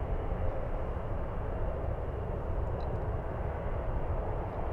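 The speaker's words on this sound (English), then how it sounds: "We have an Alaska Airlines 737 MAX 9 flying to Seattle, Washington." An Alaska Airlines Boeing 737 MAX 9 jet departs San Francisco bound for Seattle, heard as a steady, broad roar of engine noise that holds constant throughout with no voices.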